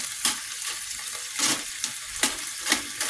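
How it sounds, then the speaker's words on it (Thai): Snail curry with coconut milk and curry paste stir-fried in a pan, a steady sizzle broken by several sharp scraping stir strokes, close and moderately loud with no voices. "ก็คั่วกันไปก่อนนะคะ"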